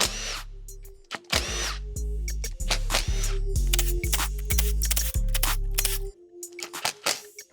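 A power tool whirs in short repeated bursts, spinning out the sump bolts from a Honda CB500 engine during a strip-down. There are about eight close, loud runs separated by brief pauses, with some clinking between them.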